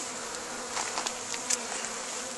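Honey bees buzz steadily around an open hive during an inspection, a continuous close droning with a few louder individual passes flying near.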